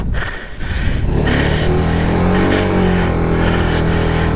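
A motorbike engine revs hard with its wheels stuck and sinking in soft ground on a Narmada parikrama route. The engine drone is loud, close and continuous, with rising and falling pitch as the throttle is worked.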